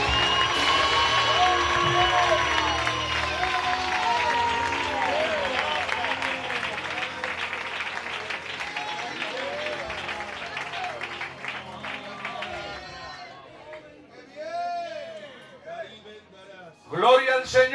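A church congregation applauds and cheers during a Spanish-language sermon on Christ's words from the cross, a dense sustained clapping and crowd noise that thins toward the end, with voices mixed in.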